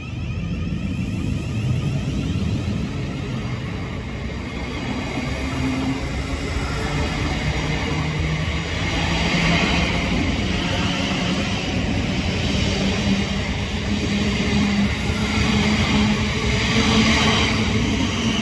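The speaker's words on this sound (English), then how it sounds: "In a second will be the 1613 Southeastern service to Charing Cross." Southeastern Class 707 electric train pulling into Lee station on a service to Charing Cross, a steady rumbling roll with a faint hum that grows slightly louder as it approaches, with no talking.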